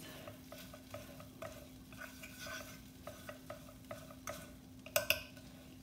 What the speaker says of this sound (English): Just use a fork and kind of mash it up really good.